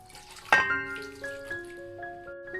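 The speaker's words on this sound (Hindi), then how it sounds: "गिलास हम इसमें पानी डाल देंगे।" Half a glass of water is poured into raw chicken and biryani masala in a cooking pot, a quiet splash followed by faint ringing tones from the vessel that fade over a couple of seconds.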